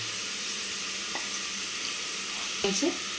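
Poppy seeds fry with tender drumsticks, tomato and potato in a pan, making a steady, moderate sizzle close by, broken by a couple of brief knocks and a short clatter near the end, with no one speaking.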